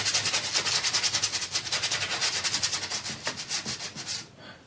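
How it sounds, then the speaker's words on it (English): A paintbrush scrubs Venetian red and orange oil paint onto a canvas in quick, rhythmic rasping strokes, steady and close for several seconds before easing off at the end. "Venetian red and the orange mixed in. Just start scrubbing it on"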